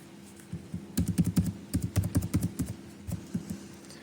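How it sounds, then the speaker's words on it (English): Keys clack on a computer keyboard as a password is typed, bursts of quick taps with brief pauses, close and moderately loud against a quiet background. "So now I am again typing my password so that no one knows my password."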